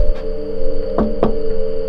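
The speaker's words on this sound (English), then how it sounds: "Knock and see if anyone's home." Two firm knocks on the door of an abandoned house, spaced a moment apart, over a steady electrical hum.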